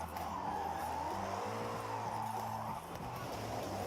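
A highly torquey car in the Forza Horizon 6 racing game, its rear end sliding as the tires squeal over a steady, rising engine drone, loud and continuous for a few seconds.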